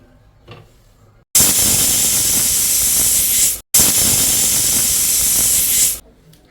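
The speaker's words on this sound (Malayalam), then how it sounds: "അപ്പം നമ്മുടെ കുക്കറിൽ രണ്ട് വിസിൽ വന്നപ്പം" Steam escapes from a pressure cooker of chicken curry in two loud, sustained hissing blasts, each lasting a couple of seconds with a short gap between them. The hiss is close and alone over a quiet background.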